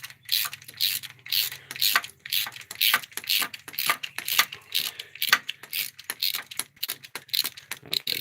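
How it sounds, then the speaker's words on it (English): A bolt being unscrewed and pulled out, heard as a dense run of close metallic clicks, ticks and rattles in quick irregular bursts, with a faint low hum underneath. "okay, the bolt's coming out."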